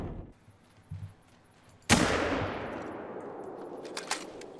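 Gunfire in a hunting video game: a single sharp, loud shot erupts mid-clip and leaves a long decaying echo, with a few quieter faint pops before it and a couple of brief clicks near the end.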